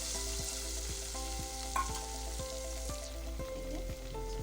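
Ground onion paste sizzles steadily in a pan for a mixed vegetable curry, with a spoon scraping through it in regular strokes about twice a second, close and continuous, no voices.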